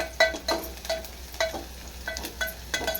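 Onions frying in a pan for a spinach dish, a soft sizzle running underneath a series of sharp scraping clicks from a spoon stirring against the pan, repeated at an irregular, brisk pace.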